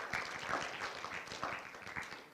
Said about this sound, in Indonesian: Sekali lagi boleh kita beri tepuk tangan ya